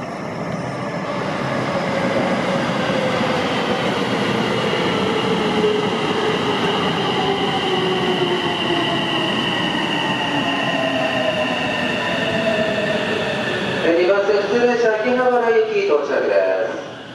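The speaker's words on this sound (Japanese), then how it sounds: "2番線、普通列車秋葉原駅到着です。" A Tsukuba Express 1000 series commuter train rumbles steadily into a station, its pitch sliding down as it slows, with squealing wheels and metallic clatter near the end.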